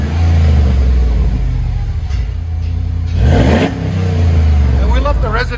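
A 2008 Jeep Grand Cherokee with a 5.7L HEMI V8 and a Flowmaster 50 Series exhaust, resonator still fitted, idles with a deep rumble, then revs up sharply once before settling back, heard up close.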